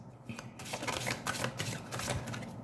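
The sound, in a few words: oracle cards being shuffled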